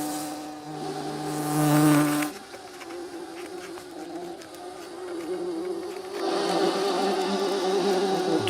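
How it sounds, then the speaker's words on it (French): Bumblebees buzz around flowers with a low, droning hum that swells and fades as they move near and away, alone without voices. "Les bourdons sont irrésistiblement attirés par les fleurs."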